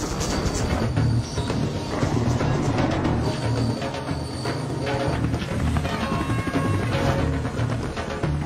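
A helicopter in a film scene set in Afghanistan's Bardan province, its dense rotor and engine roar loud and steady throughout, mixed with clattering action noise.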